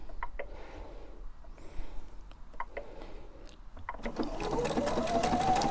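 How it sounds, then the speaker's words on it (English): Sewing machine stitching a decorative row, starting with a few quiet clicks and handling noises before the motor whirs up into a continuous, rising mechanical hum near the end. "This is going to create the first row of stitching for me."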